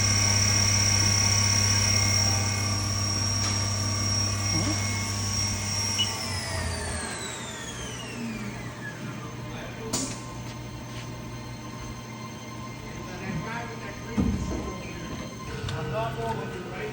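A HAAS CL-1 CNC lathe from 2019 with a 5-C collet and 8-position turret spins its spindle at 6,000 RPM, giving a steady high whine over a low machine hum that winds down in pitch partway through, followed by scattered clicks and a sharp knock.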